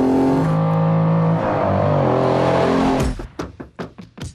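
Lamborghini Countach engine roars loudly up through its revs in a sustained climbing howl, then breaks into a few short sharp bursts as the throttle is blipped.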